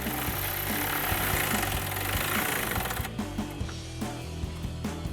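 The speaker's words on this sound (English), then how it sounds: "then we can throw that onto a ratchet" A ratchet tightens a bolt on the side rail of a Retrax IX flush-mount tonneau cover on a 2019-2024 GMC Sierra 1500, with rapid rhythmic clicking close by over a noisy background that quiets partway through.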